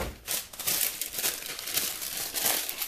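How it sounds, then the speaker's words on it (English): A small piece of wax paper is peeled and torn off a roll for a papercraft faux tile technique, producing loud, close crinkling and crackling rustles that continue for a few seconds with no talking. "Wax paper. I'm going to go ahead and peel off a small piece of this."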